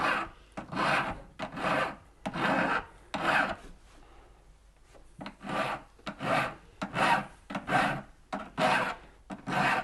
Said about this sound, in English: I'm just going to file down the sprue.